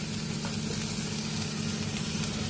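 Ingredients for a coriander chutney fry in a pan, a soft, even sizzle over a steady low hum from the stove. It stays constant with no distinct events and no talk.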